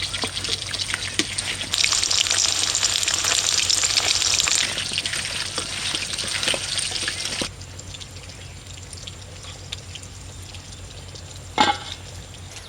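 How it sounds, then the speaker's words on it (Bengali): Steady hissing and crackling of pieces of catla fish frying in mustard oil, loud and continuous, with a brief clatter near the end. "মাছগুলো একটু লাল লাল করে ভেজে নিয়েছি"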